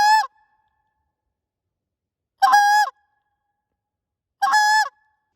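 Three loud, sharp honks played on a short reed Canada goose call, each a brief nasal blast, spaced about two seconds apart with silence between them and no talking.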